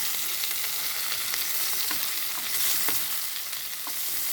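Koi fish frying in mustard oil makes a dense, even sizzle, near and steady throughout, with a few soft clicks and spatters, and no voices.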